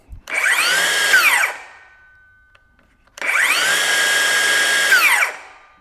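Two bursts of a loud, whining DeWalt 20V Max DCS590 cordless circular saw spinning up and running about a second each, then winding down quickly as the blade brake stops it, with a pause between.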